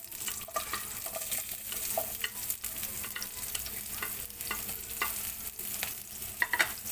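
Onion sautéing in olive oil in a wok gives a continuous close sizzle and crackle with a few stirring scrapes throughout, and no voices.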